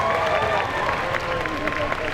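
Applause from the audience at a Belgian cosplay competition at a convention fills the hall for a cosplay duo, a steady wash of clapping with light cheers mixed in, fairly distant and even throughout.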